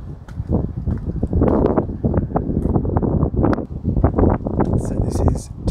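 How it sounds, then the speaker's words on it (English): Gusty wind buffets a Nokia 7.2 smartphone's microphone outdoors on a cold, blustery day, producing heavy low rumbling bursts that come and go throughout. "It is very windy today, so do expect a lot of wind noise."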